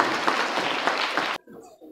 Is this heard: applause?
yes